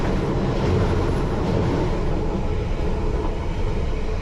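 London Underground Piccadilly line train running westbound out of Northfields toward Heathrow, a steady loud rumble of wheels and motors throughout with no voices.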